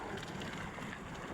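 Strong wind rushing over a boat at sea while fishing for round scad, a steady broadband roar buffeting the microphone with water wash, loud and continuous with no talk.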